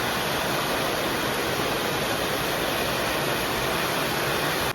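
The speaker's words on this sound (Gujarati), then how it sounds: "અત્યારે વાગી ગયા છે ત્રણ ને ધોધમાર વરસાદ" A heavy afternoon downpour in Surat makes a constant, loud wash of broadband hiss, steady and close, with no talking over it and no break in intensity.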